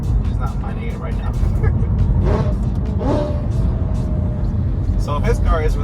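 Straight-piped BMW E92 M3 on a drive, a heavy low exhaust rumble running throughout under steady conversation from people in the car.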